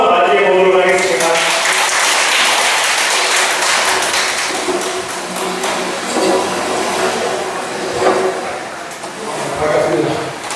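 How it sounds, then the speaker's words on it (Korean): Audience applause welcoming a lecturer at a special education session held at a community welfare centre: loud, sustained clapping that fills the room throughout, with some thumps and voices mixed in. "저희 이번에 김석준 강사님을 박수로 한번 맞이해 보도록 하겠습니다"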